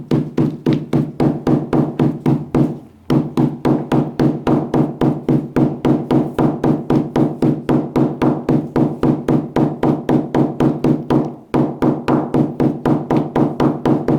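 Light hammer taps shaping the base of a basket woven from rolled newspaper, a rapid, steady run of sharp close knocks with two brief pauses.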